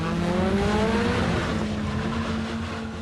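Cars driven noisily and recklessly along a short stretch of street during illegal car cruising, with continuous loud engine roar and a rising revving pitch, plus hints of tire squeal throughout.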